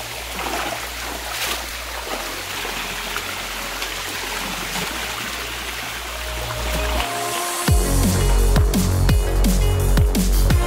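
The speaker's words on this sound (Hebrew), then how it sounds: "אז הגענו למפלי נחל השופט" Water from the Nahal HaShofet stream waterfalls pours and splashes continuously, a steady close rush over a low hum, turning louder and busier with sharp splashing near the end.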